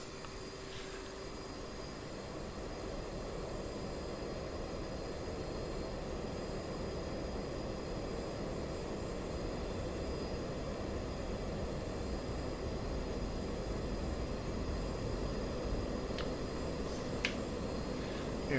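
A jet aircraft takes off in the DCS flight simulator, its engine a steady, broad roar that builds slightly and holds loud and constant throughout, with no talking.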